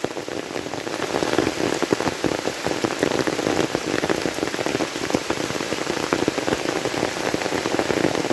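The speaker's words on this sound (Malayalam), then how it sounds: "നല്ല മഴയാണ്" Heavy rain pours steadily onto a road and an umbrella, a dense, continuous hiss of drops close by with no pauses, loud and unbroken throughout.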